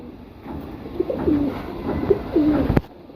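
A single female pigeon coos softly nearby, two drawn-out rolling coos about a second apart, with a brief sharp knock near the end against a quiet room.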